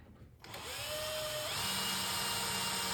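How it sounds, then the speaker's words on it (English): A power drill whirs up and bores screw holes into the wood of a Journey arcade cabinet, starting after a brief quiet moment and then running steadily and close at high speed with a rising whine. "by drilling these couple holes with a T-molding holes, it's not going to hurt anything"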